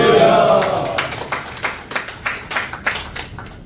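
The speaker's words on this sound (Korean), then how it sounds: "나오실 때 박수와 할렐루야로 환영 인사드리겠습니다" Congregation at a church morning worship service clapping to welcome the preaching pastor: a brief swell of clapping under a voice, thinning into a few loud, evenly spaced claps close by.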